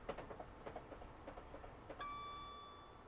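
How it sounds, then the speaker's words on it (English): City Express train running on third-rail track between London and Brighton, with a steady rumble and soft rhythmic clicks from the wheels, then a sustained tonal whine from the train that sets in partway through and holds to the end. "Train's bouncing a little bit here."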